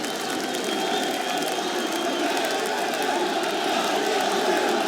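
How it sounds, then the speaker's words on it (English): A darts crowd roars through the final leg of a German Darts Open match, a sustained, distant-sounding wall of cheering and noise from a packed arena that holds steady and swells slightly toward the end. "Listen to that crowd."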